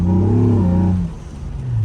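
A car engine with a newly installed transmission revs high at full throttle while the transmission slips, giving a loud sustained rising drone that drops off sharply about halfway through to a lower rumble.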